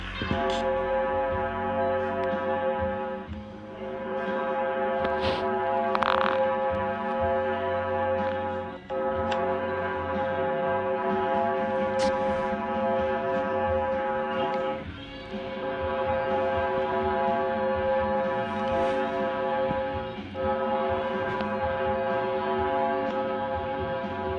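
A steady, eerie electronic drone with many stacked tones, like a distant buzzing swarm, continuous and fairly loud with brief dips; a high-pitched sonification of the planet Venus.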